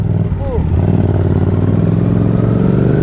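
A loud, steady motorcycle engine rumbling close by with an unmuffled, throaty exhaust, decatted with the baffle removed, and a brief voice near the start.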